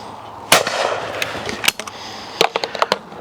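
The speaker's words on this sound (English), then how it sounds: "you want to be shooting a driven target about 45 degrees" A shotgun fires at a driven clay target outdoors, a sharp loud blast followed by a second report and then a flurry of fainter crackling pops. No voices are heard.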